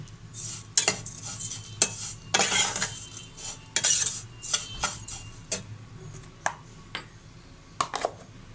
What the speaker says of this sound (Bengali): গুঁড়া দুধটাকে সেমাইয়ের সাথে ভালোভাবে মিশিয়ে নেব।